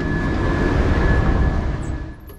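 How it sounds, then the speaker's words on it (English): A Belgian double-decker intercity train bound for Brussels Central rumbles along in a low, steady roar with faint rail noise, easing slightly toward the end. "we'll be taking this train as far as Brussels Central Station"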